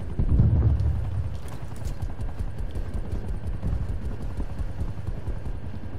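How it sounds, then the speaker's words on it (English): In the Call of Duty Cold War game, an escape helicopter thumps nearby in a rapid, steady rotor chop, loudest at the start and then holding a rhythmic beat throughout. "Eliminate the VIP before they reach the escape chopper"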